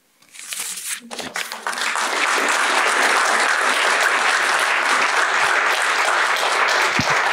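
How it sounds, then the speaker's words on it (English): Audience applause at the close of a university talk on C.S. Lewis, a dense sustained wash of clapping that swells after a brief hesitant start and holds steady and loud throughout. "Round of applause is definitely in order for that."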